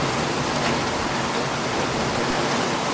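Steady rain falls across Alexandrovskaya Square in Stavropol, near the fountains, a dense continuous hiss of drops on pavement and surfaces, even and unbroken throughout with no voices.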